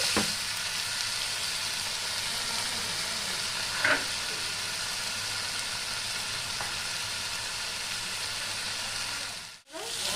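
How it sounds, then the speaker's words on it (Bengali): Spice paste frying in a pan, a continuous dense sizzle held steady and close, with a brief stir or clink near the middle and a short drop out near the end, no talk. "মশলাটা ভালো করে ভেজে নেব, যাতে কাঁচা মশলার কোনো গন্ধ না থাকে।"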